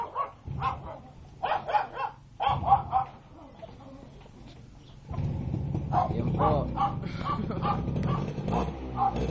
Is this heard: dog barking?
yes